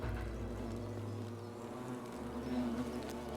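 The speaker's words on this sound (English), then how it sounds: "I hear bees or something." Insect-like buzzing of bees in The Forgotten City, a steady low drone running through the whole stretch at moderate level over faint game ambience, with a brief brighter swell near the end.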